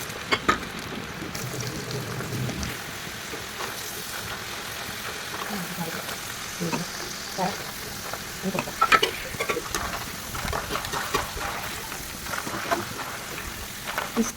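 Cassava slices fry in hot oil over a medium flame, a steady close sizzle with occasional stirring clinks and bubbling, lasting throughout.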